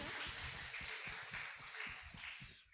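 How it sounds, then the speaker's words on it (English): Faint audience applause for a guest at an academic writing workshop, a soft steady wash of many hands clapping that continues for nearly three seconds, with low thumps underneath. "So give a round of applause for John Baker."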